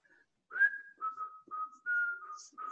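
A person whistles a short tune alone, clear pure notes in a few phrases with brief pauses between them, close and fairly soft.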